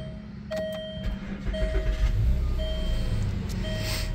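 A 2009 Land Rover LR2 starts up with chiming warning beeps at intervals as the engine cranks and settles into a low, steady idle.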